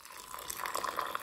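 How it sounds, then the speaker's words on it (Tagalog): Hot water poured into a cup holding coffee granules and sugar, a short, soft, rising trickle and splash, close and quiet. "Lagyan na lang natin ng mainit na tubig."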